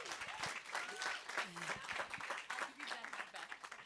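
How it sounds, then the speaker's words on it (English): Enthusiastic audience applause following a talk at an open day, steady dense clapping throughout with voices cheering and talking over it. "Give a round of applause to Nontle"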